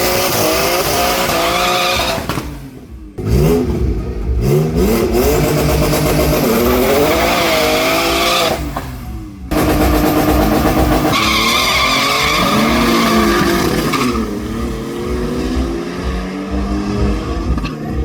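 Race cars skid and squeal their tires on a drag strip at a South African supercar gathering, loud and close with roaring engines, in long continuous bursts broken by brief drops, with no talking.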